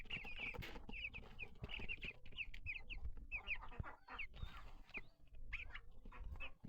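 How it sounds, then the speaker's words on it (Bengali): Broiler chickens in a small home poultry shed cluck repeatedly in short, bright bursts. The calls come close and clear over a faint background of scratching and shuffling, with no talk. "কি সুন্দর মুরগি, ব্রয়লার মুরগি"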